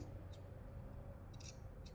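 Scissors snipping small notches into the seam allowance of thin fabric while attaching a collar to a cropped jacket, a few faint, crisp clips spaced apart over a quiet background.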